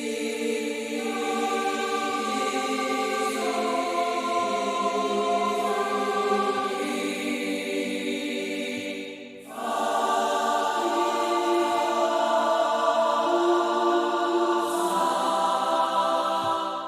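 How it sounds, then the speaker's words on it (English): Sustained alto choir voices from a Paravox synthesizer patch, chords held for long stretches with a brief dip near the middle, mid-loud and steady with no talking. "So this is one of their choirs"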